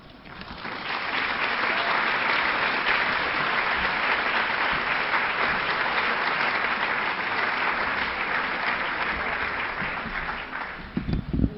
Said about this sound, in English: One last round of applause for our 2013 Outstanding Allies.